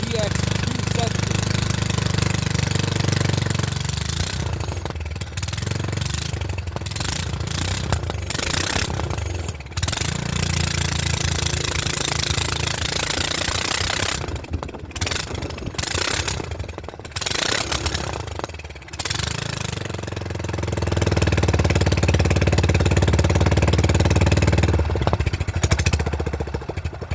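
A Honda GX270 go-kart engine runs after an extreme cold start, a loud, rough, steady mechanical drone with uneven dips and surges, and people talk intermittently over it.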